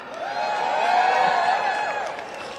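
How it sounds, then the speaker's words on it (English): A large crowd at a political Get Out The Vote rally in Richmond, Virginia cheers and whoops loudly, a sustained roar that swells and then tapers off. "I've been backstage here and you guys cheer."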